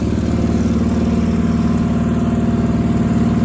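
A Sears Suburban garden tractor engine runs steadily up close, a loud, even mechanical drone with a fast regular pulse and no voices over it.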